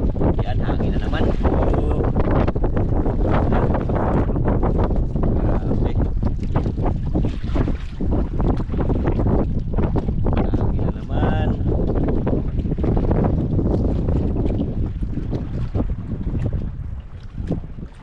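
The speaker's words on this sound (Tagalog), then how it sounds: "Ayan, hangin na naman." Loud, gusting wind buffets the microphone continuously on a grouper fishing trip, with roaring bursts over open water and a voice briefly underneath.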